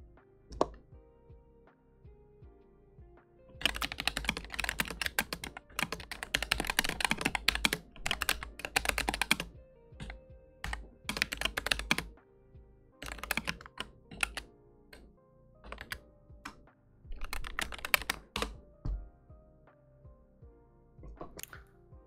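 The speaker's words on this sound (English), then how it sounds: "I'm just gonna type in random nonsense to the chat, and we'll see if we can get it to work." Rapid clatter of typing on a mechanical keyboard with red switches, picked up by a nearby microphone, coming in dense bursts of keystrokes broken by short pauses, with no talk.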